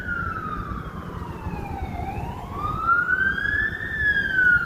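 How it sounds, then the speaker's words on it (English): Sirens from fire engines leaving a firehouse a block away wail outside, their pitch sweeping down and back up as they pass, loud and steady over street noise. "Other sirens."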